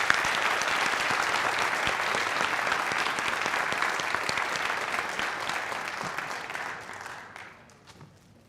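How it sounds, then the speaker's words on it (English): An audience at a school National Honor Society induction ceremony gives sustained, dense applause that holds steady for several seconds before tapering off and fading toward the end. "please once again join me in applauding all of our new National Honor Society members"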